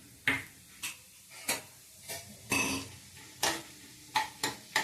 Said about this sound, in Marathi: आता डाळ घेऊया भाजून